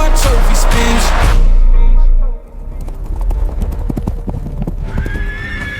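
Horse hooves clip-clop in a steady rhythm, loud and close, with a neigh early on, on a farm at feeding time amid rustling and background noise.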